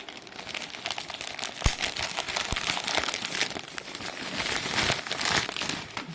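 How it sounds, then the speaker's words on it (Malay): A parcel wrapped in bubble wrap is opened up close, with continuous crinkling and rustling of plastic and a few sharper crackles and tears. "Jadi parcel berbungkus dengan bubble wrap."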